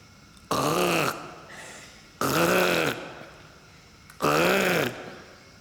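Inside an abandoned hotel in Penang, Malaysia, a person voices three loud, drawn-out grunting snorts in imitation of a hog, evenly spaced with short pauses between.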